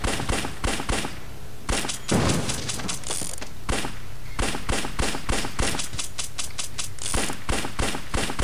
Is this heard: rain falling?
no